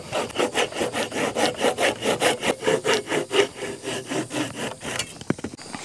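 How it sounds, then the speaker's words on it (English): A small handsaw cuts through the middle of a wood log during a dovetail log cabin build, producing loud, close, regular back-and-forth rasping strokes at a steady pace. "Taking a little handsaw to finish up that part in the middle that the skill saw blade didn't reach."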